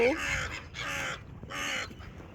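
Crow cawing outdoors at a nature spot full of birds, with three loud harsh caws in a row, each lasting about half a second, close by.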